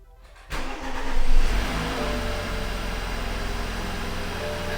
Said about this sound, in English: Does the car start?